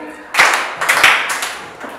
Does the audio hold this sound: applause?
yes